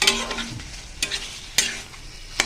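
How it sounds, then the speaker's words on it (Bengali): Food dry-frying in a pan over a full gas flame, stirred vigorously, with sharp spoon scrapes and knocks against the pan at intervals over a light sizzle. "গ্যাসটাকে ফুল অন করে দিয়ে ভালো করে নেড়ে এটাকে ড্রাই করে নেব"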